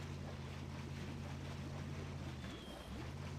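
A diesel-swapped Land Cruiser with a snorkel wades through deep water in Spintires, a steady low engine drone with sloshing, rushing water wash throughout.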